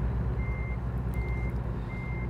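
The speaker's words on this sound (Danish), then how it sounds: "Og så er det ellers bare at bakke." Truck reversing alarm in American Truck Simulator, a steady series of evenly spaced beeps over a low engine rumble, moderately loud.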